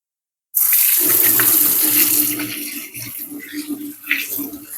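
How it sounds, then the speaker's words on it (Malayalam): Hands being washed under a running kitchen tap while making jackfruit kumbil appam, a steady close rush of water that starts abruptly and then softens slightly with splashing variations as the hands move. "നമ്മൾ ആദ്യം പോയി കൈ ഒന്ന് കഴുകണം"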